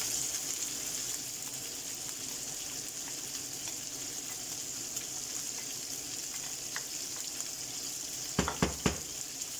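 Peppers and carrots tumble into a pan of browned pork for a one-pan pork and noodle stew, a steady sizzle running throughout with a few sharp clatters near the end.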